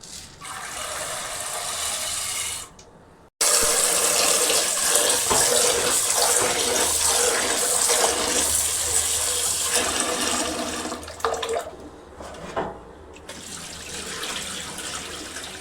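Tap water pouring steadily into a cooking pot for dal, a loud continuous rushing stream that briefly cuts out early, then runs on before trailing off in a few interrupted splashes.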